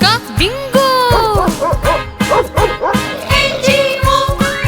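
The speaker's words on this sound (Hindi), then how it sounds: "एक कुत्ता था किसान का, नाम था उसका बिंगो।" A farmer's dog named Bingo barks and yips over and over in a bouncy rhythm, close and loud, with a children's song playing alongside.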